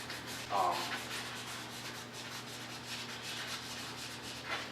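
Primer on the body of a rusty Chevrolet Suburban is sanded by hand, a continuous close rubbing rasp with steady strokes over a low background hum.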